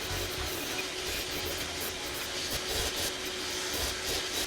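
Steady, dense hiss of an abrasive grinder working a TIG-welded Damascus steel sphere, continuous and fairly loud with slight pulsing, close and without any talk.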